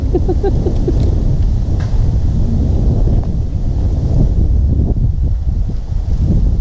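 Strong wind blowing steadily across a reservoir at Huai Khun Lat in Uttaradit, Thailand, buffeting the microphone with a loud, continuous low roar and no voices.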